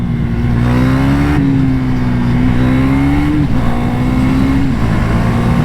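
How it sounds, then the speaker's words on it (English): A 2021 KTM 390 Duke single-cylinder motorcycle revs in low gear, its loud, close engine note rising and falling in pitch through several throttle pulls without pause. "loading the single cylinder engine is a lot of fun. That's where you produce the most like brap power out of it"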